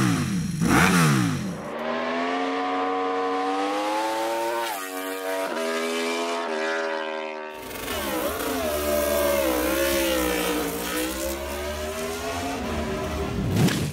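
V4 engine revving repeatedly, its pitch rising and falling through several throttle blips with brief drops to idle, loud and close with no voices.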